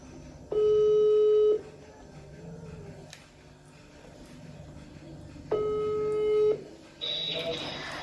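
Two long phone ringback tones sound a few seconds apart, each steady and clear for about a second, followed by a burst of connection noise, with faint background noise between.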